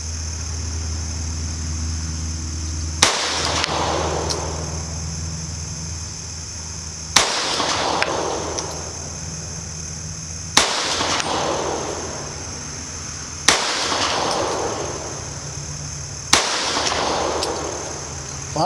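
Llama IIIA pistol fired at a target outdoors: five loud single shots spaced several seconds apart, each a sharp crack followed by a brief ringing decay, over a steady low hum.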